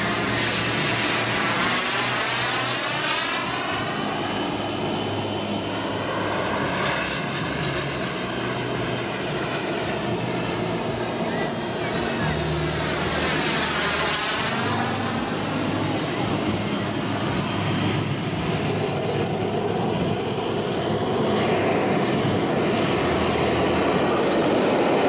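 A Skymaster F16 radio-controlled model jet flies overhead, its turbine giving a loud continuous roaring whine that swells and recedes as it makes passes, with a high-pitched tone that shifts in pitch.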